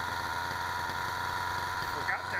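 An engine idles smoothly and quietly after a bearing replacement, with no rattle. The hum is steady and close throughout the short stretch.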